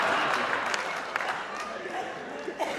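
An audience at a Kolkata poetry gathering clapping, moderate applause with a few distinct claps, partly under a voice talking over it.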